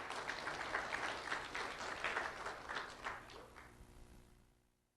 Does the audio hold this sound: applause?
yes